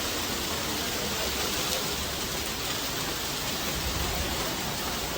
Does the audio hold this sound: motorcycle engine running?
no